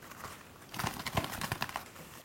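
Pigeon wing flaps made as foley with a leather glove: a burst of quick, close flapping bursts following a quiet start, crisp and papery in texture.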